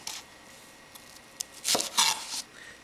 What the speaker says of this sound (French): Après ça, on coupe en plus petits morceaux.